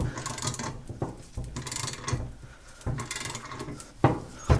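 A half-inch drive ratchet clicks in short bursts while pressing an upper control arm bushing into place, a series of close mechanical ratcheting strokes separated by brief pauses, with sharp knocks near the end.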